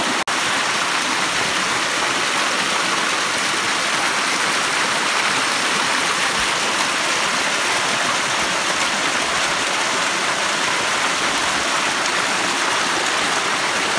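A mountain waterfall in dense old-growth forest roars with a steady broadband rush of falling water that stays close and unbroken from start to finish, with no voices.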